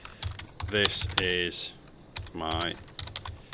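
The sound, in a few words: typing on a computer keyboard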